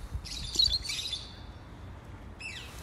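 A conure parrot whistles a couple of high chirpy notes in reply, falls quiet, then gives a short descending whistle at the end; fairly faint outdoors.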